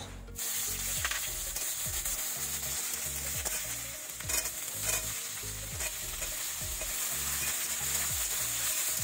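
Raw cumin seeds and onion sizzle in hot oil in a pan, a loud steady frying hiss with rhythmic stirring scrapes throughout, no voices.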